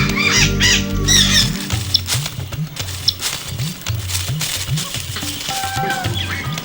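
Birds squawk in a zoo aviary, several harsh calls rising clearly at the start and more scattered cries later over a steady background hum.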